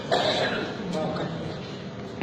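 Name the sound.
man coughing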